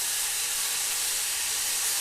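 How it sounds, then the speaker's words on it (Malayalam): Chopped garlic frying in hot vegetable oil gives a steady, dense sizzling hiss, close and even throughout with no pauses. "വെളുത്തുള്ളി നമുക്ക് നല്ലോണം മൂപ്പിച്ചെടുക്കാം"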